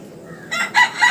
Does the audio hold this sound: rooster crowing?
yes